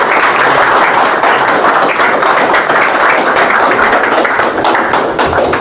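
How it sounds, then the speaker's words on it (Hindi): Students at a 10th-class counselling session give loud, sustained applause to welcome Indian Army officer Lieutenant Vishav Jasrotia; dense, many-handed clapping fills the room steadily from start to finish, with no talking. "जोरदार तालियों से स्वागत करें लेफ्टिनेंट बिशप।"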